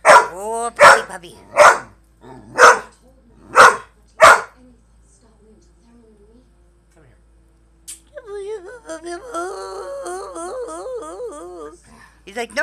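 A puppy barks five times in sharp, evenly spaced bursts, followed by quiet, then whiny yelps and whimpering cries.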